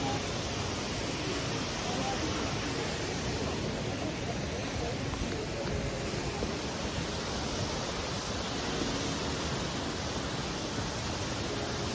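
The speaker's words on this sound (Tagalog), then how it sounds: "Waterfall." Kravica waterfall in Bosnia and Herzegovina roars as a steady, dense broadband rush of falling water, loud and unbroken throughout with no voices.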